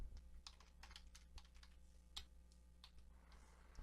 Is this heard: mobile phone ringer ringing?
no